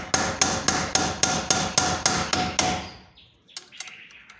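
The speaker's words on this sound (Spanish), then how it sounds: "Igual le golpeamos en varias partes." Repeated hammer blows land on a car's control arm bushing, ten ringing metallic strikes in a steady rhythm, loud and close, followed by a few lighter clinks as the work stops.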